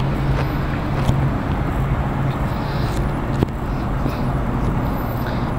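Steady, dense road noise rumbles throughout, like nearby highway traffic streaming past, with occasional faint knocks and no pauses.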